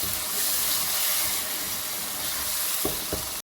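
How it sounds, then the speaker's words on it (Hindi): Two ground tomatoes sizzle and hiss steadily as they fry in spiced oil for a Mirpuri-style chicken and potato gravy. Brief stirring scrapes come near the end. "अब इसमें हम अपना टमाटर डाल देंगे, जो कि मैंने 2 टमाटर लिए हैं और इसे मैंने ग्राइंड कर लिया है, वो डाल देंगे और इसे भी भून लेंगे।"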